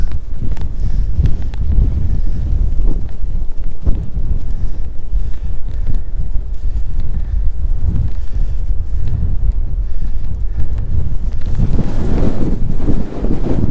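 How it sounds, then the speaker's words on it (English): Strong wind buffets the microphone on high sea cliffs in the Faroe Islands, a continuous loud low roar with gusts swelling throughout and a heavier blast near the end. "Oh, this wind."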